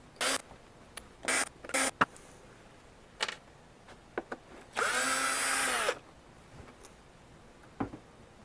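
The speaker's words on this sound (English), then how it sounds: "So I'm going to use a drill." A power drill backs screws out of a Technics SL1200MK2 turntable in short whirring bursts. One longer run sits in the middle, with faint clicks between bursts, close up and without talk.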